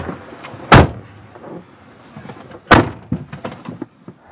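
A police car door slams shut twice, each one a sharp heavy thud, with quieter rustling and movement between the slams and no talking.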